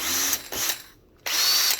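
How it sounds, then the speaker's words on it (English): Ryobi cordless drill whirring in three short bursts, revved and released with a brief pause before a final longer run, close and fairly loud with no talking. "Oh, the drill's been super awesome."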